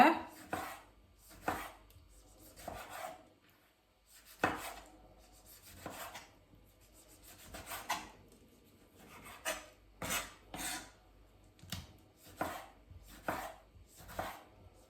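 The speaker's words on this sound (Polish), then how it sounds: "Kolejny składniki, które będę krojać są to pomidorki." A knife cuts yellow and red tomatoes into cubes on a wooden board, producing soft, close, uneven chopping strokes with brief pauses, some coming in quick pairs, and no talking.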